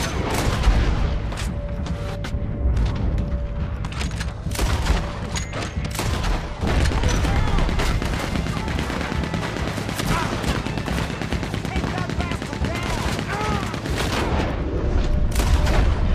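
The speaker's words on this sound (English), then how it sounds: "Sniper, hit him with a sniper!" Red Dead Redemption 2 bank heist shootout with sniper rifle fire among a dense barrage of gunshots, sharp cracks and booms repeating irregularly over a constant rumble for the whole stretch.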